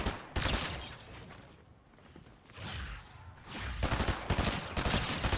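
Rapid bursts of SMG gunfire from Fortnite with a laser mag attachment crackle loudly in dense volleys, easing off briefly in the middle before heavy fire resumes.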